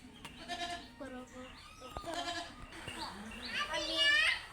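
A goat bleats several times close by in a Bangladeshi village yard, its calls mixed in with a child and an adult talking.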